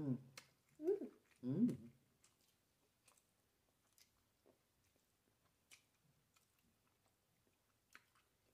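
Someone chewing McDonald's food close to the mic, a few soft wet bites and chews at the start followed by faint, sparse mouth clicks in a quiet room.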